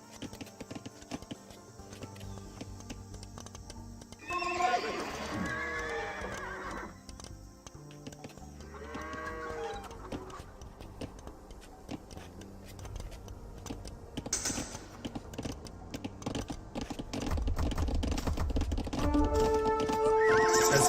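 Horses in Age of Empires 2: Definitive Edition give two loud, wavering neighs and a patter of hoof clip-clops over busy game sounds, with steady mouse and keyboard clicking throughout.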